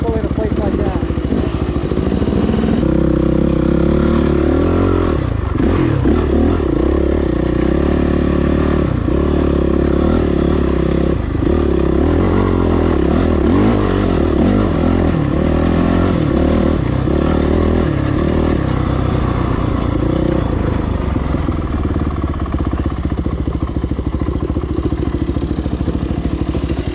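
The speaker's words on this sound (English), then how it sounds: "Leave your motorcycle in a place like that." Dirt bike motorcycle engine running steadily on a desert trail, a loud continuous drone with shifting revs and rattling clatter throughout, with a voice talking over it.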